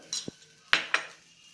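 A metal spatula scrapes and clinks against a pan while spreading butter over a dosa, giving a few short, close scraping strokes in a quiet kitchen.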